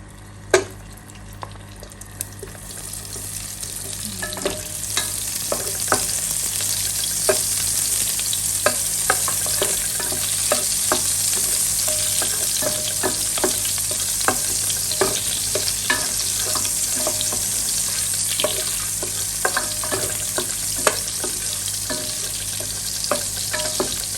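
Butter frying in cooking oil in a pan: a constant close sizzle lasting throughout, with occasional clinks and scrapes of stirring.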